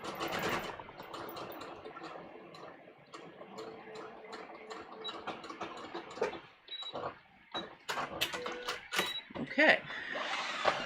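Sewing machine stitching a princess seam for a sleeve fitting, with bursts of rapid mechanical clatter and ticking close by, stopping and starting, mixed with a voice talking.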